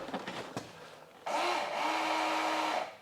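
Electric door mirror motors on a VW Golf MK2 whirring, a close, loud mechanical hum that starts abruptly after a click and runs steadily for about a second and a half before stopping.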